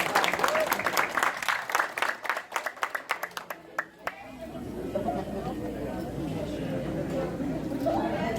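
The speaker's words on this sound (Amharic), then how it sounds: "ከፍ ያለ ጭብጨባ ይጠይቃል።" Applause from an audience at a community association's tenth anniversary celebration in Las Vegas: a few seconds of crisp, loud clapping, then a broad crowd wash with murmured chatter that carries on steadily.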